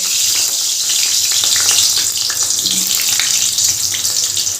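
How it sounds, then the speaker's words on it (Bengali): Cut potatoes fry in hot oil in a wok over low heat, giving a steady loud sizzle and bubbling hiss that continues without pause. "আলুটা খুব আস্তে আঁচ করে একটু ভেজে নেব"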